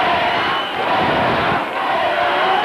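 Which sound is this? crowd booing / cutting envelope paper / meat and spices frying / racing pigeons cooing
crowd booing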